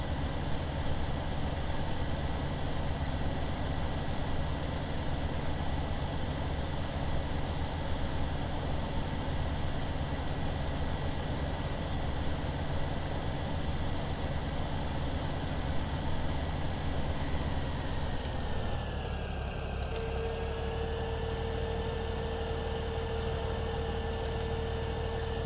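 Tractor engine in Farming Simulator 17 running at a steady drone, loud and continuous throughout, with its tone shifting and settling lower near the end as if throttling down to idle.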